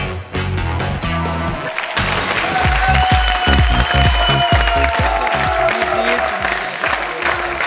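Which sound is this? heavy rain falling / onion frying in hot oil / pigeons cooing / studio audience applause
studio audience applause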